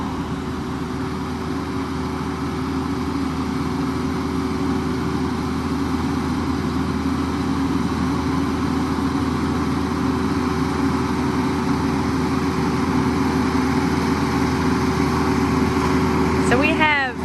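A TYM T574 farm tractor idles with a steady, continuous low engine drone that stays level throughout, with a brief chirp near the end.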